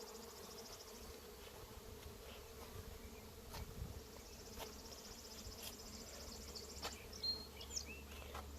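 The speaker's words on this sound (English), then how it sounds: "I've got more bees now than I expected to have." Honey bees from a bee yard with rows of hives, some holding laying queens, hum in a steady, dense drone close by, with occasional brief louder passes of single bees.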